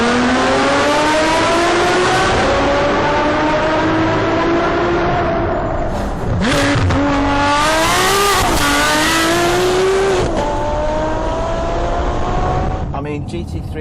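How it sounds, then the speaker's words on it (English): Ferrari 599 with a 6-litre 661-horsepower V12 revving hard, its loud rising wail climbing through the gears with a sharp lift and surge midway, then settling into a steady high-pitched howl close by. "How do you describe a 6-litre V12 that produces 661 horsepower and sounds like this?"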